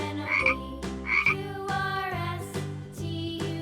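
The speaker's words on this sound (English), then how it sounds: "F is for frog." A frog croaks in a quick series of loud, close, rasping calls, a few short croaks followed by longer buzzy ones.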